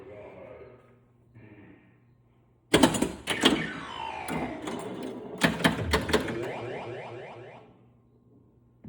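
A 1979 Williams Gorgar pinball machine springs to life after a quiet start, with loud clacking flippers, ringing bumpers, chimes and electronic sound effects bursting in rapid clusters.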